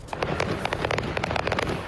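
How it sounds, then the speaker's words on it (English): Boxes of fireworks set off by an RV fire near Houston, Texas, a dense rapid string of crackling pops and bangs that runs without pause, fairly loud and with no voices. "Fireworks and plumes of smoke filled the sky after an RV fire sparked several boxes of fireworks."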